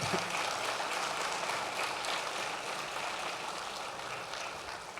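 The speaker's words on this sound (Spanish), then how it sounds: "Denle un aplauso al Rey de Reyes, al Señor de Señores." Congregation applauding during a Sunday church service, a steady wash of many hands clapping that holds fairly loud and even for the whole stretch, slowly thinning toward the end.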